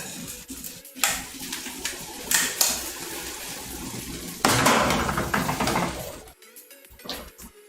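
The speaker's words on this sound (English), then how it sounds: "what we're doing here is that we're basically frying this up a little bit, all right, in the oil." Food frying in oil in a pan in a home kitchen, a sizzling hiss that swells loudly twice alongside clanks and scrapes of utensils against the pan.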